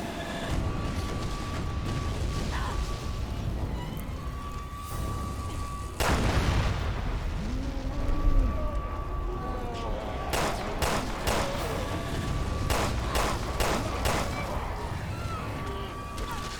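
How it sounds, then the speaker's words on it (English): Explosions and gunfire in the video game Resident Evil Revelations 2: a steady din of rumbling blasts and scattered shots, with a heavy boom midway and a rapid string of sharp cracks toward the end. "Everything is exploding all around me."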